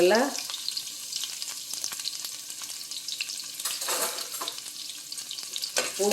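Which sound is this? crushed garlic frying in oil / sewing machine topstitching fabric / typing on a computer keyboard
crushed garlic frying in oil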